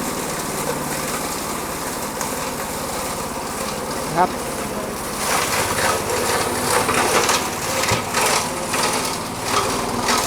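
A small engine on a 2E Micro-1 wood chipper runs steadily throughout while leaves are fed in and shredded, the grinding growing rougher and louder in the second half.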